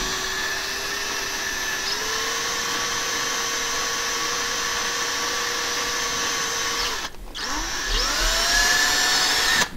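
A small hand-held drill bores slowly through a miniature figure, a steady whining motor tone that dips briefly near the end and then resumes, close and alone.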